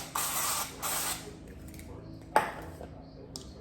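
Two short hissing bursts of cooking spray coat a small bread pan lined with parchment paper in a kitchen, followed by a sharp metallic clink.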